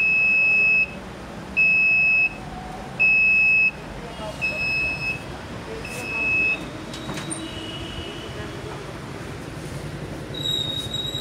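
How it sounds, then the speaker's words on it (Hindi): Packing machine alarm beeping when its timer ends, three loud sustained beeps at the start followed by fainter repeated tones, over steady machine noise with speech nearby. "जब इसका टाइम पूरा हो जाएगा अलार्म बोलेगा इसे।"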